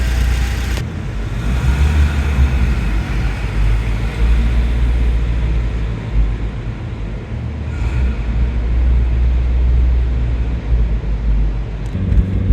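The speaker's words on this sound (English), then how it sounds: "here I am driving the Nissan Figaro" A Nissan Figaro's small engine drones steadily from inside the car while it is being driven, a loud continuous low rumble with road and wind noise, a brief gear-change dip near the start and no talking.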